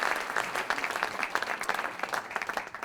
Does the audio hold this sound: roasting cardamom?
no